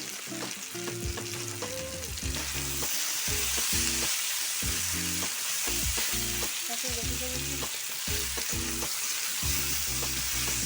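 Chopped vegetables fry in a pan for a Bengali drumstick-stem chorchori as cumin powder goes in: a loud, steady sizzle runs throughout, broken by repeated rhythmic scrapes and knocks of a spatula stirring, with no talking.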